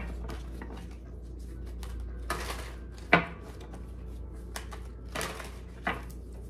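Tarot cards are shuffled in soft, rapid riffling bursts that come and go, with a few light taps and a sharper clack, quiet over a low steady hum.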